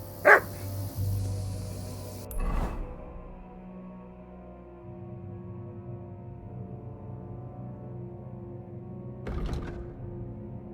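A dog in Kingdom Come Deliverance II gives a few short, sharp barks, spaced several seconds apart. Steady low game ambience fills the gaps.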